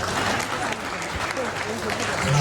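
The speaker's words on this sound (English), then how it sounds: "Clap for Nigeria." An audience at a movie premiere claps, a dense, steady burst of applause filling the short moment at close range.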